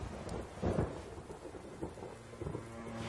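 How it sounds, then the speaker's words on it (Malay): Heavy rain pours steadily while low thunder rumbles through it, swelling into a loud roll near the start and grumbling again further on, with no voices. "Kasihan benar hujan-hujan gini."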